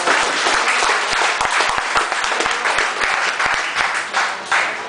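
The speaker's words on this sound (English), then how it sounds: "Let's give him a big round of applause." An audience at a professional boxing event before a flyweight bout gives a full, sustained round of applause, with dense clapping from start to finish.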